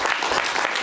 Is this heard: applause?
yes